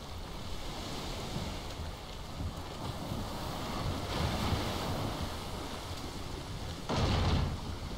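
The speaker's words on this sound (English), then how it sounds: "That was a rough wave." A rough ocean wave surges around a boat in Valheim, a steady wash of surf and wind noise with a louder crashing swell near the end, no voices over it.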